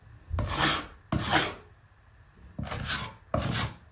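Excess drywall filler scraped off plasterboard with a scraper: four distinct rasping strokes, two in quick succession then a pause and two more, close and clear against a quiet room.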